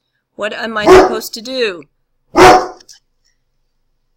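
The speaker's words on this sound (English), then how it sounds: "you heard a dog barking in the background." A dog barks in another room, two short bursts at moderate level, with someone talking just before and over them.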